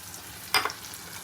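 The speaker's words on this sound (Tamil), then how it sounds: "இந்த பச்சை சுண்டைக்காவை இந்த மாதிரி நசுக்கி இப்படி போட்டு ஒரு வதக்குறோம்" Crushed green turkey berries sautéing in a pan make a low, even frying hiss, cut by one brief, sharp clatter of a spoon or pan midway.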